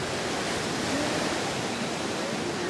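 Ocean surf at a professional surf contest in Hawaii roars as a steady, loud wash of breaking waves and foam, filling the whole stretch with continuous broadband noise and no voices.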